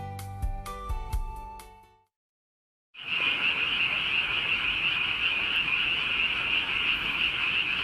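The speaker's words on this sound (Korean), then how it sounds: "요즘 밤만 되면 농촌에 개구리 소리가 한참 시끄러울 때입니다" A dense chorus of frogs croaks continuously in the countryside at night, a loud, steady, rhythmic din with no voices, following a brief stretch of music and a moment of silence.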